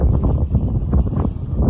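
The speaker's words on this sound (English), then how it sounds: "the background noise you hear is the sound of about a 50-mile-an-hour wind" Strong wind of about 50 mph at the rim of Kerid Crater, a volcanic crater in Iceland, buffets the microphone in a loud, continuous low roar with gusty surges and no talking.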